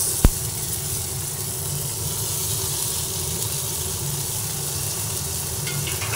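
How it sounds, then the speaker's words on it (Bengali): Ginger dropped into hot oil in a pan while cooking a fish-head and greens dish, a sharp tap followed by a steady, even sizzling hiss that continues throughout. "এরপরে এর মধ্যে আমি যে আদাটা রেখেছি সেই আদাটা দিয়ে দেব।"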